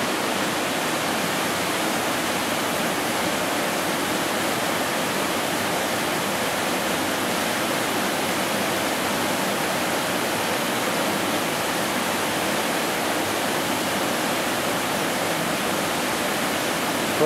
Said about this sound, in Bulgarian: Това са двата водопада, първите два водопада